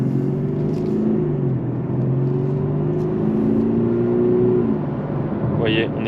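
Audi A6 Competition 3.0 V6 diesel estate accelerating with a steady, moderately loud engine drone rising gradually in pitch, heard from the cabin over continuous road rumble, with a brief higher whine near the end.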